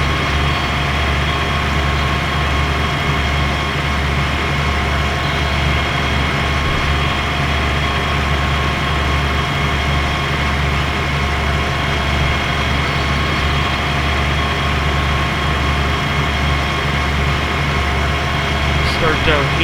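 A tractor engine in Farming Simulator 2013 runs steadily throughout, a loud, constant low droning rumble with a tonal hum, continuing unchanged beneath a voice talking.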